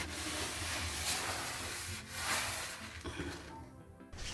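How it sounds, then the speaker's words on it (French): Sink siphon parts soaked in vinegar and baking soda are scrubbed in close, uneven rubbing strokes, a soft continuous friction with brief pauses and no talking. "je viens frotter les éléments de mon siphon également que j'avais laissé poser avec un petit peu de vinaigre et de bicarbonate de soude"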